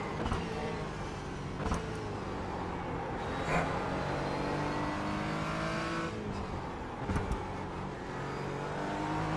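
An Aston Martin race car engine in the iRacing sim racing game drones steadily through a race, its pitch sweeping up and down with gear shifts and a few sharp accents, with no talk.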